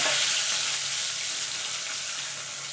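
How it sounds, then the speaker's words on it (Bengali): Potatoes fry in oil for a fish curry with aubergine, giving a continuous, moderately loud sizzle with no voices. "এবার দিয়ে দেবো আলুটা। আলুটাকে একটু লাল লাল করে ভেজে নেব।"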